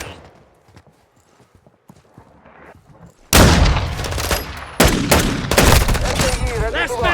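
Gunfire in the game Call of Duty Modern Warfare 2: quiet, scattered faint cracks at first, then a sudden loud close burst of rapid shots that continues in heavy, dense volleys.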